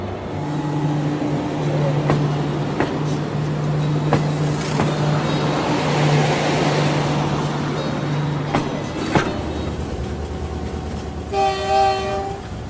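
A train rumbles along toward Hammamet near Tunis with a steady low drone and rattling wheel clicks, then its horn sounds loud and close near the end.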